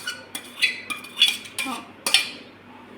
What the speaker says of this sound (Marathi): त्याच्यात पाणी मिक्स करून टाका.